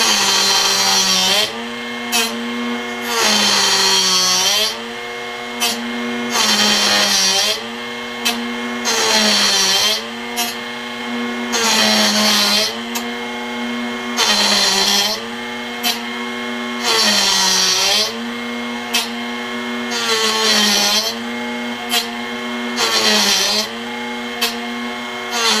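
A power drill whines steadily while a drill bit grinds against a sharpener wheel in repeated bursts, a harsh rasping rising and falling roughly every second or two, close and loud.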